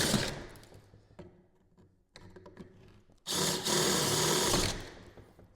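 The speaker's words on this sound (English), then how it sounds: "we can go ahead and drill a clearance hole for the head" A power drill whirs in short, uneven bursts with pauses while drilling a clearance hole for a screw head, then one longer, louder run before it stops.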